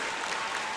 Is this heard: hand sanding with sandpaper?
no